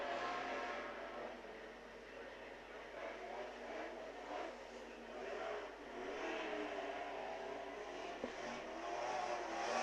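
Speedcars on hot laps at a Kalgoorlie track roar past at a distance, a steady wash of engine drone that swells and fades over the full stretch with no voices.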